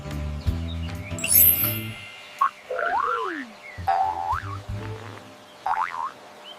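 A frog croaks amid cartoonish boinging and sliding whistle-like tones, with a low rhythmic rumble at the start and a few separate croaks spaced across the stretch; no voices.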